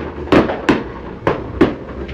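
Firecrackers explode on New Year's Eve: four sharp, loud bangs spaced unevenly over about two seconds, each with a quick fading tail, over a low background rumble.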